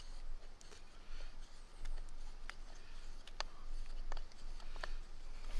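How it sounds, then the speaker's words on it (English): A knife scrapes bark from a wooden tent peg outdoors, giving sparse faint ticks and scrapes over a steady low hiss. "I'll remove some of the bark as well."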